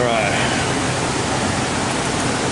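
A blower runs on an RV roof during a TPO roof replacement on a 2014 Grand Design Reflection, giving a loud, constant broadband rush of air that stays steady throughout.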